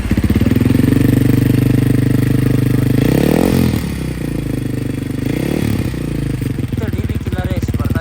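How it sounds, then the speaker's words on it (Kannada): A Honda CBR 400 RR engine runs loud and near through an exhaust with the dB killer removed, a deep throbbing idle with a couple of brief revs. "DB ಕಿಲ್ಲರೇ ಎಷ್ಟು ಬರ್ತಾ ಇದೆ ಸೌಂಡ್ ನೋಡಿ."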